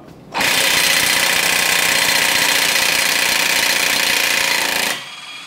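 A loud Snap-on pneumatic impact wrench loosening an axle nut on a Nissan R35 GT-R hammers steadily for about four and a half seconds, a rapid continuous rattle that starts and stops abruptly.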